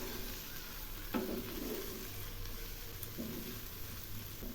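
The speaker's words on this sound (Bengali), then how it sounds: "যেহেতু ধনিয়া পাতা দিলাম সেজন্য আবার একটু নেড়ে দিচ্ছি।" Tomato and onion chutney stirred in a pan after chopped coriander goes in, a quiet, soft sizzle with a couple of brief scraping stirs.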